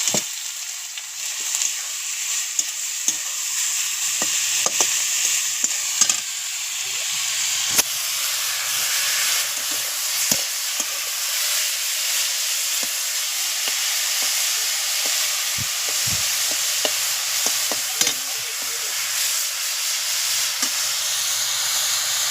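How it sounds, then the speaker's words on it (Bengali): Leafy greens (shak) frying in a pan give a steady, close sizzle and hiss that holds for the whole stretch, broken now and then by small crackles and stirring clicks. "শাকটা ভালো করে ভাজা ভাজা হয়ে যাক, তারপর আমি নামাবো, আস্তে আস্তে হোক"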